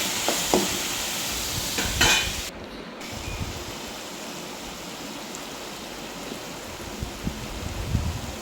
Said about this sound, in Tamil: நல்லா கிண்டி விடுங்க.